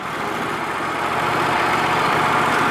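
A sawmill engine runs steadily at close range, giving a loud, even, low mechanical drone throughout with no speech.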